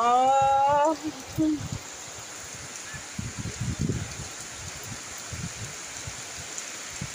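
Heavy rain with strong wind makes a steady, broad hiss, with gusty rustling swells from shaking trees, while a person speaks briefly at the start.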